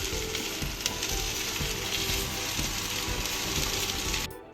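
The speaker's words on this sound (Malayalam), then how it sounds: "നമുക്ക് ഇതിലേക്ക് കട്ട് ചെയ്ത് വെച്ചിരുന്ന വെണ്ടയ്ക്ക ചേർത്ത് കൊടുക്കാം" Cut okra stir-fries in a hot pan, giving a loud, dense, continuous sizzle with small crackles that cuts off sharply at the very end.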